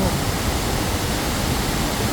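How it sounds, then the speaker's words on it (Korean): Kuang Si Falls near Luang Prabang, Laos, seen at its largest lower tier, pouring as a loud, dense, continuous roar of falling water close by, with no talk over it. "지금 앞에 보시는 게 이제 왕식 폭포고요"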